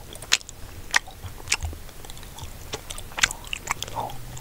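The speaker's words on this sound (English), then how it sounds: "I was just chewing some vitamin bears" Close, soft chewing of gummy vitamin bears with a few distinct bites and squishy crunches spaced irregularly, otherwise quiet.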